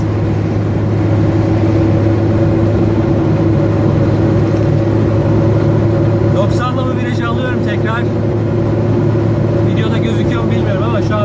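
A Lada Niva's engine drones steadily at around 100 km/h, climbing a hill in fourth gear on a long-distance road trip, with constant road and wind noise throughout and someone speaking over it partway through.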